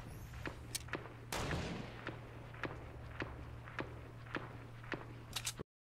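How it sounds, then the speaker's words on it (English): Thermal AR gunshots in the Fortnite video game ring out in a series of sharp, evenly spaced single shots at mid distance, with one heavier burst near the start and a double crack just before the sound cuts off. "Hear those shots? That's a thermal AR right there that you're hearing."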